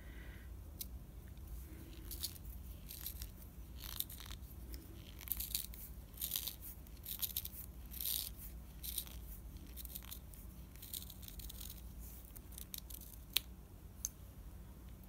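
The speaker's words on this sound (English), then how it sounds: "so we're going to try the pencil sharpener" A crayon is turned in a handheld pencil sharpener, giving a long run of faint, close scraping and crunching shavings with irregular small clicks.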